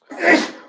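A single close sneeze bursts out sharply and fades within a second, loud and clear in a quiet meeting room during a planning meeting's roll-call vote.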